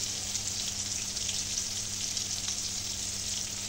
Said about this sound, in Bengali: তেলটা গরম হয়ে গেছে। এর মধ্যে আমি সয়াবিনগুলোকে দিয়ে ভালো করে ভেজে নেব